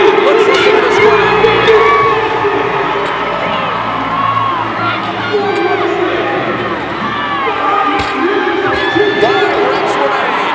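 Loud crowd at a team fitness competition cheers and shouts continuously, whoops and yells layered over a dense roar, with an announcer's voice talking through it near the front.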